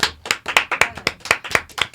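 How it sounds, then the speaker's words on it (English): A small audience claps during a podcast-style interview, a dozen or so distinct sharp hand claps in an uneven rhythm, fairly close and clear with no talk over them. "let's give us a clap if everybody want to clap."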